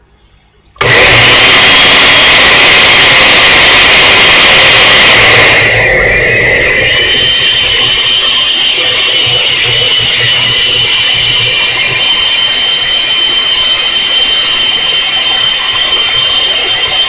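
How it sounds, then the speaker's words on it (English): A countertop blender whirs up abruptly and runs continuously, mixing cream cheese pancake batter, its loud motor whine shifting to a slightly lower, steadier pitch partway through as the mixture blends. "Now just put your lid on your blender and"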